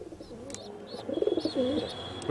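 A Giribaz pigeon coos close by in a few soft, rolling phrases that grow louder toward the end. Faint chirps sound in the background.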